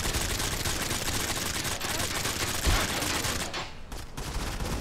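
Rapid turret gunfire rattles through a Modern Combat 5 firefight, a dense, loud stream of shots that breaks off briefly near the end before resuming.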